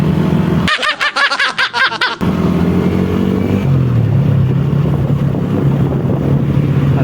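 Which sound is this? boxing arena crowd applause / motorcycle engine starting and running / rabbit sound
motorcycle engine starting and running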